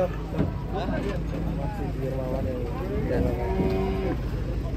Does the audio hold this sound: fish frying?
no